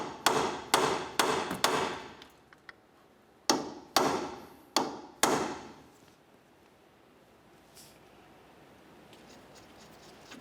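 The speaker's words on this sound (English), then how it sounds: "you can take a hammer and punch and drive the nut down into that slot" Hammer and punch staking the axle nut into its slot on a 2004-2006 Scion xB front hub, eight sharp metallic strikes in two quick bursts, close and loud, then quiet workshop ambience with faint clicks.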